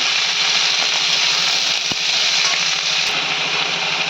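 Cauliflower stems, washed and sprinkled with water, stirred in a hot pan, giving a steady close sizzle with a couple of sharp scraping clicks of the spatula.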